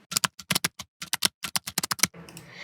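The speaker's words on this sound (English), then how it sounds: "open File Explorer by just pressing Windows key and E keys at a time" A computer keyboard is pressed in quick bursts of sharp clicks for a Windows shortcut, close and crisp, ending in a soft brushy rustle.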